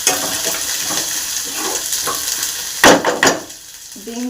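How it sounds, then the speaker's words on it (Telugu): Curry leaves being stirred into frying onions in a pan, a steady sizzle and scrape of the spoon running throughout, with a louder burst of crackling near the end. "కరివేపాకు వేసి మిక్స్ చేయాలి."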